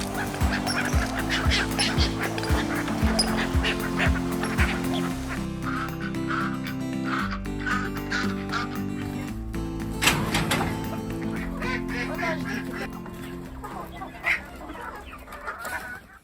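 Dense chorus of ducks quacking continuously on a duck farm, with honking and other fowl calls layered throughout, loud and busy with no voices.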